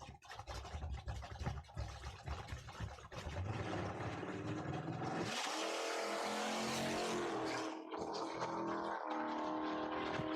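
Quarter-mile sportsman-class drag race at a dragstrip between a Tesla and a Chevrolet Malibu: loud, rising engine and car noise builds steadily and holds, with a brief dip near the end, no talking.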